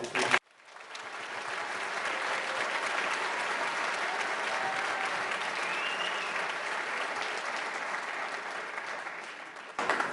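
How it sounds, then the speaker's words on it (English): A school band concert audience gives a sustained round of applause, rising quickly after a brief pause and holding a broad, even wash of clapping for about ten seconds before tapering off. "So give them a round of applause"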